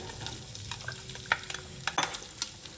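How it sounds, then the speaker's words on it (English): Chopped meat, onion and green pepper cook in hot lard for New Year's lentils, a close, steady sizzle broken by scattered spoon scrapes and clinks against the pot. "I'm gonna cook this until the onions are translucent, the peppers soften up, and the meat lets out its oil."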